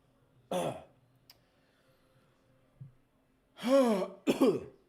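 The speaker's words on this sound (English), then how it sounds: "you're probably going to hear me clear my throat and cough throughout this stream" Someone clears their throat and coughs in short, separate bursts with quiet pauses between, close and fairly loud.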